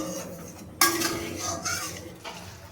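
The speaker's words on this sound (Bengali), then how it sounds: "এবার একটু ভালোভাবে নাড়িয়ে নেব।" A spoon stirs a pabda fish oil-jhal curry in a metal pan, with loud clinks and scrapes against the sides, close and fairly busy, over a faint sizzling background.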